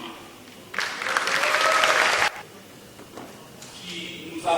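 A festival audience at a European film screening in DR Congo applauds the film's director Mwenzi Ngangoura, a loud burst of clapping lasting about a second and a half, with someone speaking before and after.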